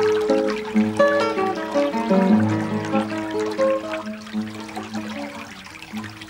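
Water from a fountain at the Alhambra falls and splashes into a basin as a steady, close rushing pour, with a tonal, music-like layer underneath that fades toward the end.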